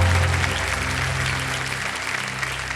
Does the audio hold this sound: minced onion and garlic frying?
no